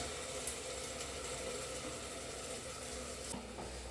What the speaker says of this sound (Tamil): இந்த பச்சை வாசம் போகிற வரைக்கும் நம்ம கொஞ்சம் நேரம் கிண்டணும்